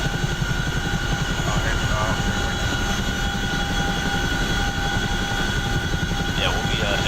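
A Chinook helicopter in the flight simulator DCS World drones loudly and continuously, its rotor thrum steady throughout, with faint radio chatter over it.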